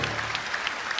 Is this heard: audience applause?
yes